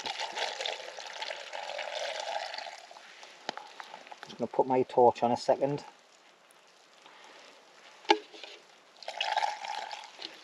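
Water pouring into a bottle outdoors at a wet wild camp, a gurgling pour of about two seconds mid-clip, between stretches of steady rain-like hiss and someone talking.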